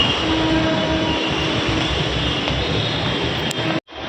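A loud, steady rumbling roar of a metro train running past, continuous for several seconds before abruptly cutting off near the end.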